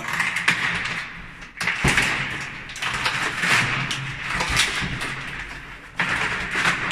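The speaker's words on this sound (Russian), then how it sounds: "Дверь бронированная." An armored door being forced open during a break-in, with metallic scraping, grinding and heavy thuds in close, loud, uneven bursts.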